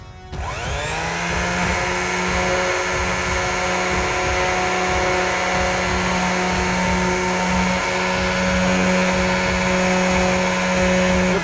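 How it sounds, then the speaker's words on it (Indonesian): A powered sanding tool grinds against the screen of an ASUS ZenFone Max Pro M2, giving a loud, steady motorized whine with a rough scraping texture that holds constant from start to finish. "Sekarang kita coba gores pakai alat amplas ini ya."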